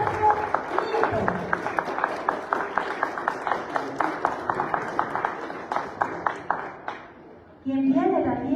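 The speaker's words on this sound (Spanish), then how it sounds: "recibamos con fuertes palmas" Audience clapping in even rhythmic unison at a political rally in Huancayo as a presidential candidate is welcomed, sharp repeated claps close by for several seconds before a voice breaks in at the end.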